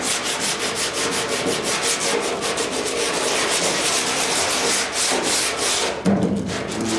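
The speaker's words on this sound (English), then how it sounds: "Then we just have a little more control with this. Just a hand sander." A hand sander works body filler on a truck's cab corner, giving a steady, loud, close abrasive rubbing with a rhythmic back-and-forth texture that runs unbroken for several seconds, with a brief shift near the end.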